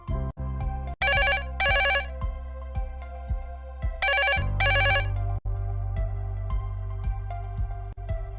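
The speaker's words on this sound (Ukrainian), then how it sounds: "аж раптом задзвонив телефон" A phone ringtone plays in loud bursts, a repeating electronic melody with short pauses between rings, clear and close with no talking.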